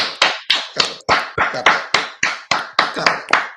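A small group of people clapping together on a talk show, about a dozen sharp, evenly spaced claps in a steady rhythm, close and loud, with no voices.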